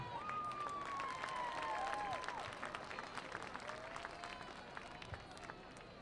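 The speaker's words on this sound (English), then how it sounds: "let's have a nice round of applause for the members of the homecoming court and their escorts" Crowd applause and cheering for the homecoming court at a high school football game, a broad, steady wash of clapping with a voice briefly audible at the start, fairly quiet and distant.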